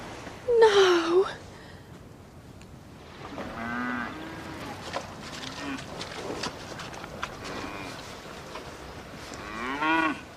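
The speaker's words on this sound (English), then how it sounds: "They're your cows." Cows moo on a farm, one loud close low at the start and several softer, drawn-out moos following through the rest, with occasional shuffling in the background.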